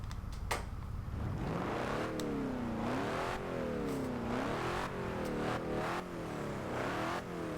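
A 1988 Chevrolet Monte Carlo SS with a small-block V8 revs hard in a racing game, the engine note rising and falling through repeated sweeps, loud and close with no talk over it.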